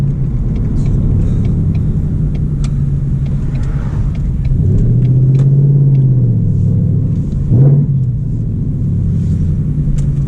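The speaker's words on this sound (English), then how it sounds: "Listen to that exhaust." A car with a Coyote engine rumbles with a deep, steady exhaust drone while driving, loud and close, with a brief rise in revs near the middle and a quick blip toward the end.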